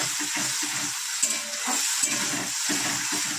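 Spice paste sizzles and fries in a pan for a potato dum curry, with a steady bright hiss broken by rhythmic scraping strokes of a spoon stirring it, close and fairly loud.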